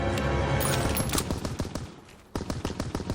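Rapid automatic gunfire rattles in loud, dense bursts during a World War II battle in Call of Duty WWII, with a brief pause before another volley; no voices are heard.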